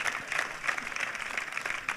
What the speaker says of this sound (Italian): un super applauso a un grande prefetto